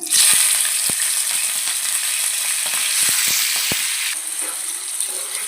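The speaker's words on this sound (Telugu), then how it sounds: "ఒక ప్యాన్లో ఆయిల్ వేసుకున్నాను ఆయిల్ బాగా వేడెక్కిన తర్వాత రొయ్యలు వేసుకుందాము" Raw prawns frying in hot oil in a pan crackle with a loud, constant sizzle, broken by sharp pops and clicks that ease off slightly toward the end.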